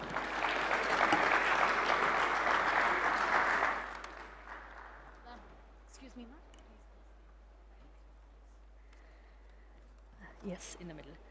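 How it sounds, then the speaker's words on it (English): An audience at a technology conference applauds after a keynote speech, with loud sustained clapping for about four seconds that then fades into quieter room noise and faint movement. "a big round of applause to Her Excellency Miss Lindy Cameron"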